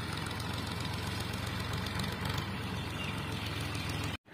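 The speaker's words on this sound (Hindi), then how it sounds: "ट्रैक्टर चल रही है" A tractor engine runs steadily in a farm field during ploughing, a continuous low rumbling drone with a dense knocking texture at moderate distance, cutting off abruptly at the end.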